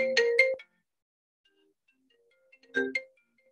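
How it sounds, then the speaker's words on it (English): A phone ringtone interrupts a taekwondo class, sounding as two short melodic bursts separated by a few seconds of silence, close and clear with no talk. "I don't need someone else's phone call coming when I'm teaching you"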